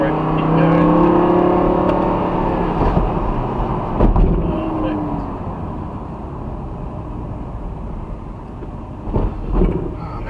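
A car engine pulls hard during a track driving experience while following a Ferrari, a loud steady drone with rising tones under cabin chatter, then a couple of bumps and thuds near the end.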